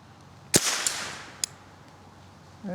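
An old .22 rifle fires once at cans outdoors: a sharp, loud crack with a short fading tail, then a fainter second pop and a third sharp crack, each well separated, with quiet between.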